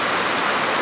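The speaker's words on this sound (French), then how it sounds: "il pleut aujourd'hui à Douala, c'est fou hein" Steady rain falls in Douala, Cameroon, a continuous dense hiss with no distinct drops and no voices.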